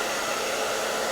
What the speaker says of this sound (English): Let the hairdryer get good and hot.